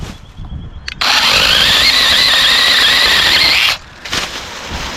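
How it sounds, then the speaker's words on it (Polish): Parkside pole saw from Lidl cutting through a tree branch about 3 cm thick: after a brief start, a loud, steady high-pitched whine of the cutting chain holds for nearly three seconds, then cuts out, followed by some clatter. "Pierwsze wrażenia są takie, że trochę szarpie ta piła, tak?"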